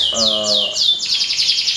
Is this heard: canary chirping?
yes